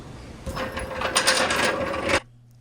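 Socket wrench working a wheel fastener while a car tire is being removed on a rusty Ford Falcon, a short burst of clicking ratchet and metallic rattling for about two seconds, close and moderately loud, then stopping abruptly.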